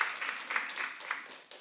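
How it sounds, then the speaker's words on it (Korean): Faint, scattered clapping from a church congregation during a sermon, thin and distant, rising in small uneven swells for under two seconds before a sharper sound at the very end. "박수 하세요"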